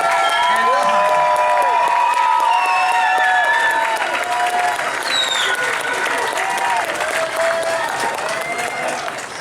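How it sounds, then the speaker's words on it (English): A loud crowd at a state fair high-dive show claps, cheers and whoops for the diver, with shrill shouts and yells rising over continuous applause that stays strong throughout and eases only slightly near the end. "put your hands together for Travis Sims and the high diver"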